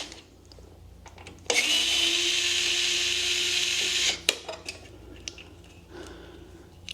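A power tool, likely a drill or driver, spins out the screws on a Ninebot Max G2 electric scooter's charging plate: a steady, loud mechanical whine for about three seconds, then scattered clicks and small handling knocks.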